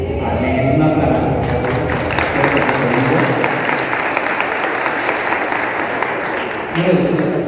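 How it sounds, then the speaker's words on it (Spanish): Church audience at a Pentecost service breaks into steady, dense applause that fills the room at close range, with a few voices faintly mixed in. "Un aplauso."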